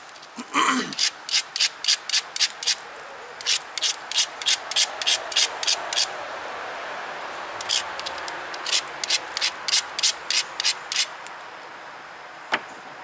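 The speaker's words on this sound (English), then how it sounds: "so that means I need to grind" The edge of a stone pressure blank is ground against an abrasive in quick repeated rubbing strokes, bursts of scratchy rasping in two rhythmic runs separated by a short pause, close and clear.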